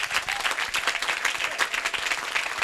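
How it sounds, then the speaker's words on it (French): Church congregation clapping together during a Sunday worship service, a steady patter of many hands at moderate distance with no voices over it. "Just clap."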